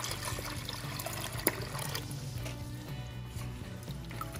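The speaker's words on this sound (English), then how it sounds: "Get some of this water in there quick." Water poured quickly into a saltwater reef fish tank, a continuous soft trickling and splashing with one brief sharp knock partway through, close by and without speech.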